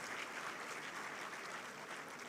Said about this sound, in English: Please let's appreciate him with a very robust round of applause.